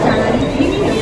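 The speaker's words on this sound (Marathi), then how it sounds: "फायनली आता 11:40ला ट्रेन आली आहे" A slow local train bound for Churchgate arriving at CSMT railway station gives a loud, close, continuous rolling rumble and rattle filling the platform for a brief moment.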